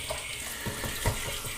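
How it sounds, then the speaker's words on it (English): Tap water running into a sink while a face is rinsed after a wet shave, a steady close hiss of flowing water with soft splashes, no voices. "I need to rinse off just a bit more."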